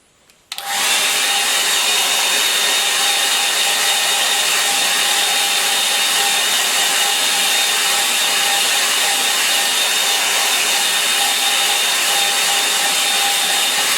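Hair dryer switches on abruptly and then blows at a loud, constant whine close by, drying a watercolour line-and-wash painting of a saltmarsh.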